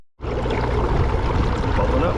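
Air pump motor in a DIY compost tea brewer, giving a steady loud rush of bubbling water that begins abruptly and keeps going evenly, with no talk over it.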